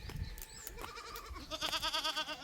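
A flock of goats heads uphill to graze, and several overlapping bleats rise in a loud, close cluster toward the end after scattered rustling and outdoor noise.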